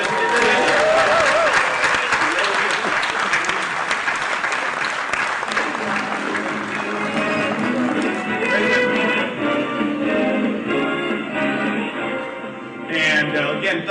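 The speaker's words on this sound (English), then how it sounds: "let's give a round of applause to Vincent" An audience at a Jeopardy-style quiz during an international waters conference gives the winner a sustained round of applause, with voices talking and cheering through the clapping as it fades toward the end.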